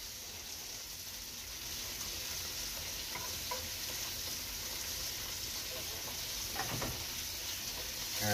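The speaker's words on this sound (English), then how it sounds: "I'm going to hold it on the sides like this, because I want the sides of the meat to also sear." Seasoned meat seared on its sides in a hot pan gives a continuous, even sizzle and hiss that swells slightly toward the end, with a few faint clinks.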